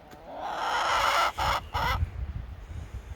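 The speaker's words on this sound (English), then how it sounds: "Nothing like angry chickens mad because you can't come out and play." Penned chickens in Alaska cluck and squawk loudly and close by, a busy agitated chorus that briefly cuts out twice before settling into softer clucks.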